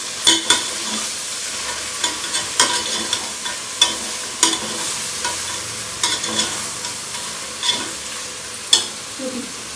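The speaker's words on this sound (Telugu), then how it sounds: "బాగా ఫ్రై చేసుకోవాలి, పచ్చివాసన పోయే వరకు మంచిగా" Large tomatoes frying for goat head curry, a loud close sizzle broken by frequent sharp scrapes and clatters of a spoon stirring in the pan, with no talking.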